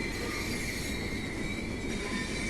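Close and loud, a train in the video game Train Sim World 5 rolls past at low speed, a steady rail rumble with a sustained high wheel squeal running throughout and no voices.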